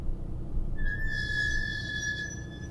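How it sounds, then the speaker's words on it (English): Car brakes screech in the Highway Blossoms game, a single sustained high-pitched squeal rising over a low road rumble and holding steadily for about two seconds. "I slam on the brakes, their shriek piercing my skull."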